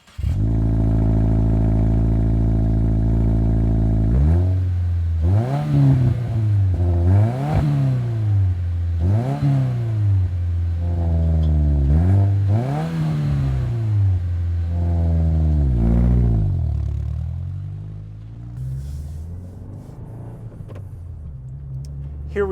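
A current-generation Subaru WRX driving on the road, its engine loud and close, rising and falling in repeated revving pulls through the gears, then settling to a steadier cruise toward the end.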